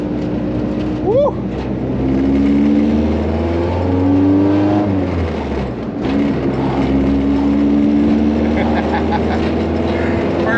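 A Honda Civic JDM build pulls away and accelerates, its engine drone rising steadily and loud with a tonal whine climbing in pitch, while voices talk and cheer excitedly over it.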